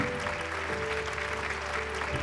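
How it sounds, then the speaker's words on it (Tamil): A studio audience at a Tamil television awards event applauds, a dense, continuous wash of clapping heard throughout at moderate level with no speech over it. "ஒரு மிகப்பெரிய கைத்தட்டல் கொடுத்துடலாம்."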